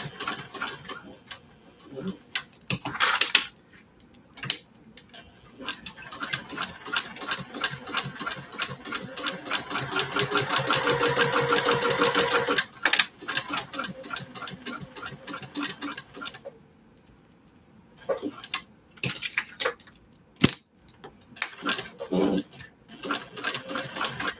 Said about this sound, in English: And we are stitching the outer edges.